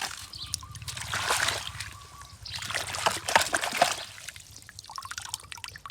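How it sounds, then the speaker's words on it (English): Water is poured into a toy truck, giving bursts of trickling and splashing liquid that come and go in two main pours, fairly quiet and close, with dripping between them. "Firstly I have to put some water."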